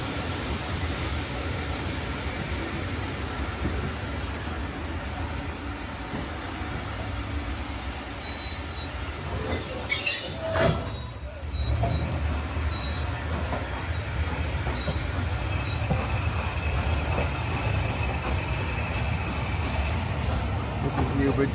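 A train shunts near the Newbridge level crossing on the Esk Valley Line, producing a steady low rail rumble with a brief wheel squeal midway, heard from close by at the trackside.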